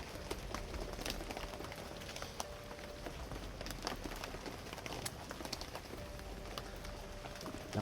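Heavy rain pouring outdoors near a camp, a dense, steady wash of drops hitting surfaces close by with no talking.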